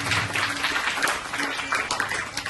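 Applause from a group of schoolchildren and audience at a primary school quiz contest, rewarding a correct answer; dense, steady clapping throughout, fairly close.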